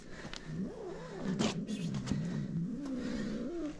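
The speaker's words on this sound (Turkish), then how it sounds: "fare yüzünden kavga ediyorlar kedilerimiz" Village cats fight over a mouse, trading drawn-out, rising and falling yowls and growls close by, continuous and loud with no talking.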